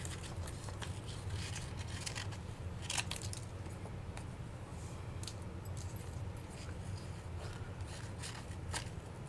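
Repeated crisp snips and scraping of scissors cutting material, close and fairly quiet, with irregular rhythm and no talking.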